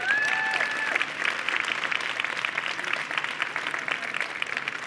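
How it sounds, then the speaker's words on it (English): Audience applause during a climate-action conference session, full steady clapping from a crowd with a brief tonal sound at the start, continuing strongly to the end. "Can we have another round of applause?"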